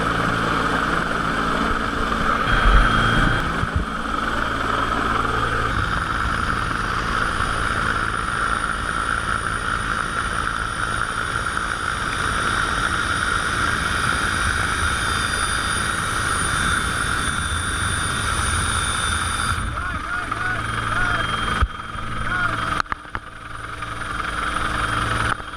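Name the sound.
rescue helicopter flying over sea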